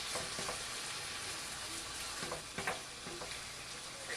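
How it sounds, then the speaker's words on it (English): Beef browning in a pan for beef and broccoli, a continuous loud sizzle and fry with occasional scrapes and stirring knocks of a spoon, close and steady with no talking. "We're not trying to cook the meat fully. We're just trying to brown it."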